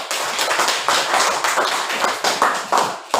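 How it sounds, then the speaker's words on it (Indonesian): Students in a classroom clap in quick, uneven bursts, with several rhythmic rounds of close, sharp hand claps rising and dropping. "Oke, tepuk tangan dulu"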